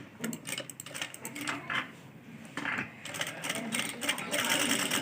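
A sewing machine stitches along the edge of buckram for a suit neckline, in short whirring runs broken by brief pauses and small mechanical clicks, under soft speech.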